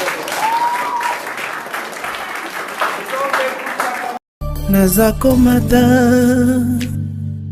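A church congregation breaks into loud applause to acclaim Jesus, a steady roar of clapping under a voice, then a brief cut into swelling music with singing.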